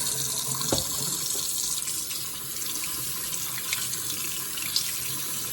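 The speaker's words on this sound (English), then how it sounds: "Sprayer does work." A kitchen sink sprayer in a house sends out a steady spray of running water, a constant close hiss that fills the whole stretch with no talk over it.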